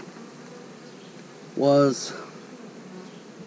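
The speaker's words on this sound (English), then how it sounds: "there's plenty of bees in here." Bees crowd a five-frame hive box, giving a faint, steady buzz throughout, with a brief spoken word cutting in near the middle.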